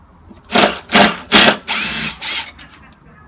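A power drill whirs in five short bursts, close and loud, while an antique chair is taken apart.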